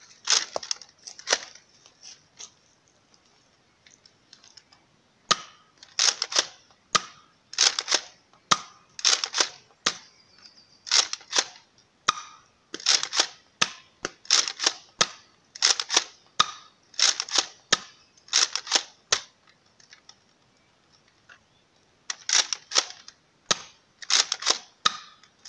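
Nerf Elite Surgefire blaster firing foam darts one at a time without slam fire: a long series of sharp snapping shots, spaced about a second apart with brief pauses, close and fairly loud with no talking.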